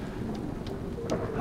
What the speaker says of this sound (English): And that's the thunder.